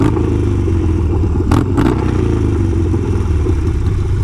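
A Harley-Davidson motorcycle fitted with a Kinetic 'The Coil' exhaust idles loud and close with a deep, steady rumbling drone, and a brief clatter cuts in partway through, with no one speaking.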